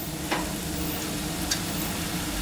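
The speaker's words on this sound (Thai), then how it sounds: "แล้วเราจะคลุกเข้าอีกนิดเดียวเราก็ตัดขึ้นได้แล้วนะครับ" Minced pork with holy basil and glass noodles is stir-fried in a pan, producing a constant sizzle with two sharp spatula scrapes against the pan and no talking.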